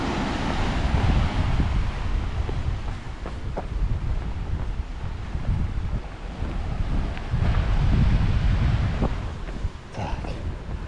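Wind buffets the microphone on a beach near the Golden Gate Bridge in San Francisco, with ocean surf rolling in underneath as a loud, continuous wash that surges in waves.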